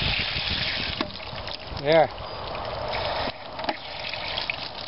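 Water rushes steadily from the drain of a hot water tank on a Casita trailer water heater, a continuous pressurized gush with a short voice speaking over it partway through.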